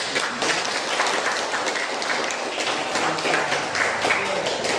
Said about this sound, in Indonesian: Untuk kegiatan ini mari kita tepuk tangan untuk